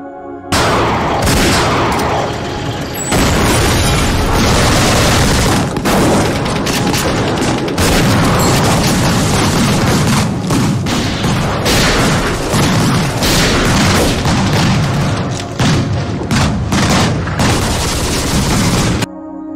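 Sustained gunfire and explosions in a film ambush on British soldiers during the Irish conflict, dense bursts and booms loud and continuous throughout.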